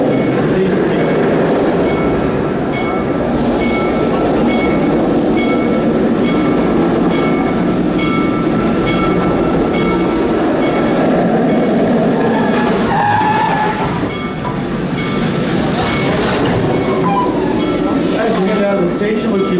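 The Busch Gardens steam train rolls along its rails with a loud continuous rumble and rhythmic clatter, wheel squeals rising at times, while voices talk over the ride.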